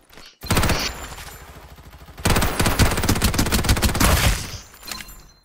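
Sustained machine-gun fire from a shooter video game, loud rapid bursts in two long stretches separated by a brief quieter pause.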